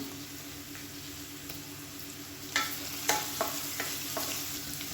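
Chopped onions with salt and ginger-garlic paste sauté in a pan, giving a steady close sizzle with a few sharp stirring scrapes in the second half.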